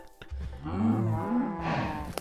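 A Minecraft cow lets out one drawn-out moo, close and clear, ending with a few faint clicks.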